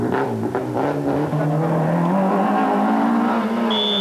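Citroën ZX GTI rally car at the 1995 Boucles de Spa rally, its engine note rising as it passes close by, with a rising whine and a brief high tone near the end, loud and continuous with no voices.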